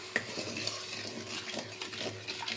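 A spoon stirs sugar and water syrup in a metal pan, scraping and clinking against the sides in an uneven rhythm, close by with a faint sizzle beneath.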